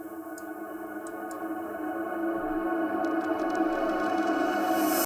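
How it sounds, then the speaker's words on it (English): A reversed reverb effect made from a short excerpt of a dark beat track: a washy, smeared musical tone that swells gradually louder over several seconds, as if sucking inward. "I exported a small part of this song and then added some reverb and then reversed it"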